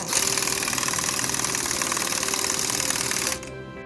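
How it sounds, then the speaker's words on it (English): Flange bolts on a wellhead gate valve are tightened with a power tool: a steady, loud, rapid mechanical whirring and chattering runs for about three seconds, then cuts off abruptly. "we torque them down."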